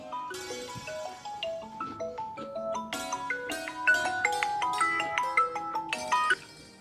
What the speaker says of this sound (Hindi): इसका फोन आ रहा है, इसे देख लो।